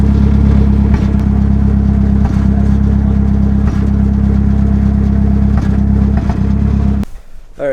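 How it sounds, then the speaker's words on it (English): A Mazdaspeed 3 with a large hole in its exhaust runs loud and close, a deep rough drone with periodic puffing pulses, holding steady before cutting off abruptly near the end. "I knew the exhaust had a giant hole in it"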